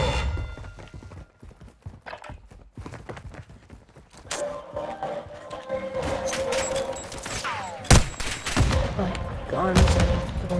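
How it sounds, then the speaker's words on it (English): Gunfire crackles in Warzone 2 as a burst of rapid shots in the middle distance, followed by scattered louder cracks and movement noise, with people talking over it. "Somebody's shooting."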